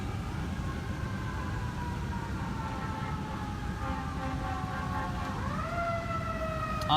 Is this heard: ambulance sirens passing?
yes